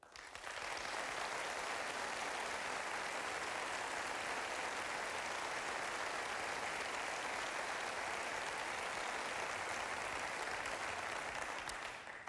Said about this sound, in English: that will be the first round of applause of the night